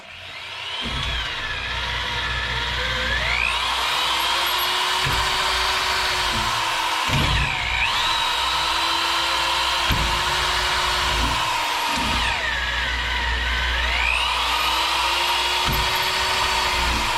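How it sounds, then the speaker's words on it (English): A power drill runs steadily and loudly, close by, while bits bore into a horseshoe clamped in a vise during hoof restoration on a 17.1 hand Dutch Warmblood eventing horse, its whine dipping and recovering in repeated cycles with no talk. "This drill here is pretty sick."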